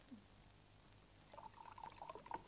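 A drink is poured into a glass: a faint, short gurgling pour that rises in the second half, with no talk over it.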